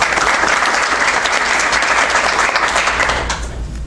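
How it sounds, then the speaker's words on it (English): Dense audience applause fills a business networking meeting room, a steady wash of many hands clapping close and loud, easing slightly at the end with no talk over it. "Round of applause for Ken"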